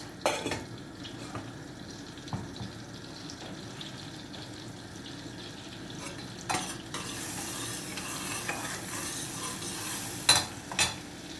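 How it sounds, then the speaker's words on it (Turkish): A spoon stirs boiled manti dumplings in a pan, making soft, faint scraping and wet swishing with a few louder clinks toward the end, with no one talking. "Mantımızı bir daha karıştıralım ki yapışmasın, rahat kalmasın."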